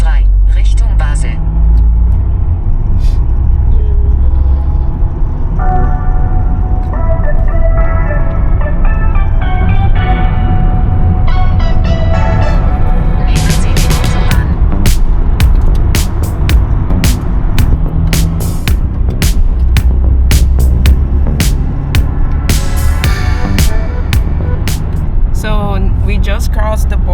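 Car driving on a motorway heading toward Basel, a loud, constant road rumble and engine drone throughout, with talking inside the cabin over it.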